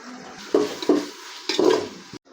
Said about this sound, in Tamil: இஞ்சி பூண்டு பேஸ்ட்டு போட்டு நல்லா வணக்கியாச்சுங்க